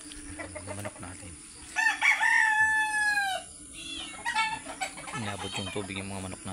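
A rooster crows once loudly and clearly in the middle, among chickens whose coop was reached by floodwater after Typhoon Enteng, with scattered clucking and farmyard noise before and after.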